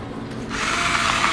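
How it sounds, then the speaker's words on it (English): An electric pepper and salt grinder starts up mid-moment, a close, rising whirring buzz that continues steadily after a short quiet start, no talking. "An electric pepper and salt grinder."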